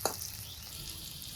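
Black cumin seeds hitting hot oil in a kadai, a sharp initial spatter followed by a steady, fairly loud sizzle with no voices.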